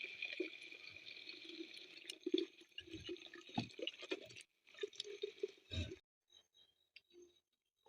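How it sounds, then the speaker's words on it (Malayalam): Hot water is drained from boiled ripe mangoes in a kitchen, a faint, uneven trickle and splash that stops abruptly around six seconds, leaving a few quiet drips. "പിന്നെ വെള്ളം നമുക്ക് ഊറ്റിക്കളേ."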